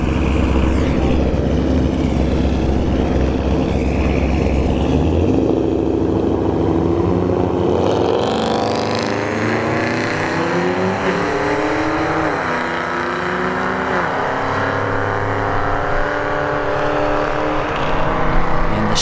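Two Chevy drag cars roar down the dragstrip at a test-and-tune session, loud engines revving and accelerating hard, then the pitch sweeps and fades as they pass into the distance.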